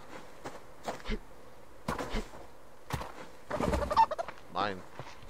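A chicken in the survival video game Subsistence clucks in short bursts, scattered among footsteps and other scuffling game sounds, close by and moderately loud.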